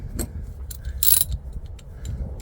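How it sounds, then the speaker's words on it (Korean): A nut being tightened onto a bolt while fitting a fixed seatback bracket in a Porter 2 double-cab's second row, giving a few close ratcheting clicks with one brief louder burst midway. "나머지 부분 너트를 조여 주시는데"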